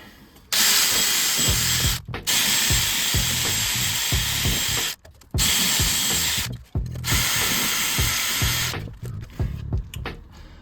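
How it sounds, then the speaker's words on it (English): Wire brushing and cleaning a rusty bolt on a BMW E46 328Ci rear suspension, then WD-40 sprayed on it: several long bursts of loud hissing aerosol spray separated by short pauses, with scraping and handling noises underneath. "we're going to clean the edge of the bolt with the wire brush, so we can unscrew it correctly and do not damage the threads, and then put on some W40 on it"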